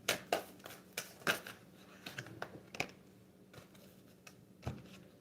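Tarot cards are shuffled by hand in a quiet room, giving soft irregular riffles and sharp card snaps spread across a few seconds, close and fairly faint.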